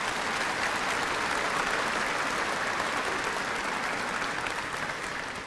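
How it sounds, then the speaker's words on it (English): Sustained audience applause fills a graduation ceremony hall at Lake Area Tech, a dense, even wash of many hands clapping at steady loudness from start to finish without voices. "Please give them a round of applause."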